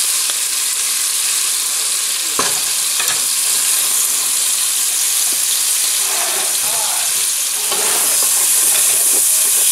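Pot roast browning in the bottom of a pot with red wine and garlic nearby, giving a steady, loud frying sizzle with hiss throughout and a few brief scraping stirs, no talking.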